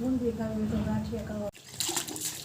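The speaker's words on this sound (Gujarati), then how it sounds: "ભાઈ અત્યારે નળમાં નાય છે પાણી આવ્યું" Water gushes from a tap under a voice, then the flow continues alone with splashing after an abrupt break.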